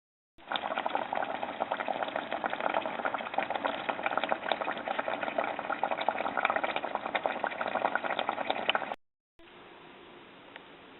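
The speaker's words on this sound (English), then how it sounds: "I'm going to let the sauce reduce probably for about 20 minutes, just so it gets nice and thick" Red wine braised pork rib sauce simmering and reducing in a pot, a steady, dense bubbling that runs unbroken for about nine seconds, then stops briefly and returns quieter near the end.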